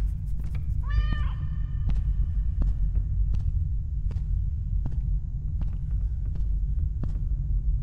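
A single short meow from a cat in a video game about floors and anomalies sounds early on, over a steady low game hum with a few faint clicks.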